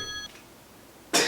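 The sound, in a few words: phone ringing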